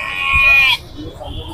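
A goat at the Jammalamadugu livestock market lets out one clear, drawn-out bleat up close, followed by low crowd murmur and background talk.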